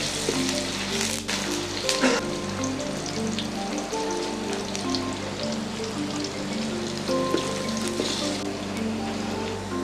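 Onions sizzle and crackle in hot oil in a pan while being cooked until brown for a sweet pumpkin and shrimp dish, a steady, close frying hiss with no talk.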